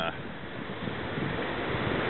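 Ocean waves surge into Queen's Bath, a rocky tidal pool, pushing up through a circular tube and draining back out, a steady close wash of surf with wind noise, building slightly louder toward the end.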